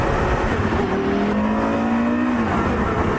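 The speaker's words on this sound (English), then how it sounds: "This thing revs super quickly." A sports car engine roars loud and close at high revs, its pitch climbing steadily as it accelerates, then dropping away as the revs fall.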